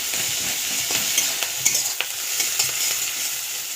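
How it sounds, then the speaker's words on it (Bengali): Onion and garlic paste sizzles and crackles steadily in a hot pan while a spoon stirs and scrapes through it, close and continuous with occasional sharper clicks. "রসুন বাটা নিয়ে একটু নাড়িয়ে নেবো"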